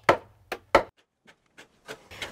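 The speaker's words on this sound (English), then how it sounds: "Yeah, give him a bit of a hammer." A pole is hammered into place while hiding unsightly features in a garden setting: three loud, close wooden thumps in quick succession, then quieter knocks and a couple of scraping taps.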